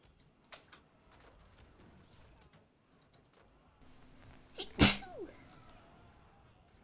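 A single sharp sneeze from someone at a computer during an online game session, loud and sudden against faint keyboard clicks and quiet background.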